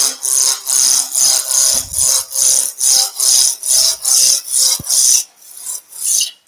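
A roughing gouge cuts a large piece of wood spinning on a lathe. The cut comes as about a dozen evenly spaced, loud, rasping strokes in a steady rhythm, ending with a brief pause and one final pass.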